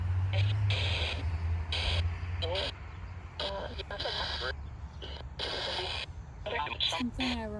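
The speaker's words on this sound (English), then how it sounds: "We're using white noise in essence." White noise from a ghost-hunting communication device used at a graveyard: a steady hiss broken by rapid bursts and chopped fragments of radio-like voices, continuous throughout and fairly loud.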